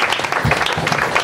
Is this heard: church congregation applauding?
yes